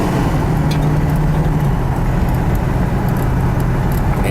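A Ford Gran Torino Elite coupe accelerating on a test drive, with a steady engine drone and road rumble heard from inside the cabin, its pitch rising briefly and then holding even.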